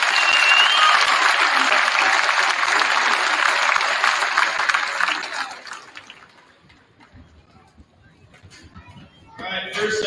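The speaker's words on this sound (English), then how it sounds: "Let's give them another big round of applause." Loud crowd applause for a high school wrestling team heading to state at a pep fest, dense clapping that fades out over several seconds to near quiet before a voice begins speaking.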